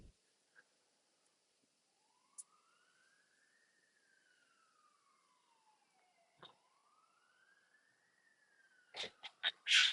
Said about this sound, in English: So I hear a siren